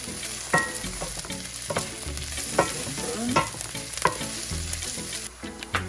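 Onions frying in a pan for a coconut curry with mahi-mahi, a steady sizzle broken by repeated scraping knocks of stirring, close and clear with no talking.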